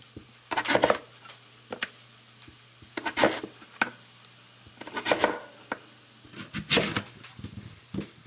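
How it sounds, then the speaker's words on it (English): Potatoes being cut into small pieces with a knife on a board, heard as quiet, irregular bursts of chopping and scraping separated by short pauses, close up with a faint steady hum underneath. "you have to cut up the potatoes pretty small"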